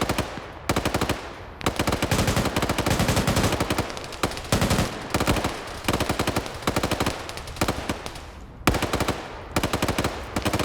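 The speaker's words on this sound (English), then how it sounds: "This is their back line right now, trying to supplement their front line with suppressive fire." Continuous automatic gunfire in a Falklands-era multiplayer combat game, with dense overlapping bursts of suppressive machine-gun fire rattling loud and nearly unbroken, broken only by brief pauses.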